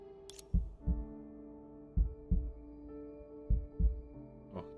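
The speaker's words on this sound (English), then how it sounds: "Oh, the heartbeat sound effect." A heartbeat sound effect from the video game Honkai Impact 3rd: slow, paired low thumps in a steady lub-dub rhythm, close and clear over a quiet sustained tonal hum.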